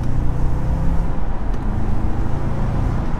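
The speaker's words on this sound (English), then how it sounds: "Wow, this car pulls through the gear." Audi S4 4.2 V8 accelerating through the gears, a loud continuous in-cabin engine drone with road rumble beneath it, the revs rising steadily.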